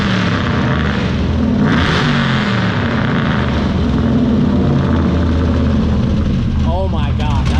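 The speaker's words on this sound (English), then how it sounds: "Give it a rev real quick." LS V8 swapped Miata, a lifted 455hp hillclimb car, its engine running loud and close, a dense, continuous roar throughout, with people talking partly over it near the end.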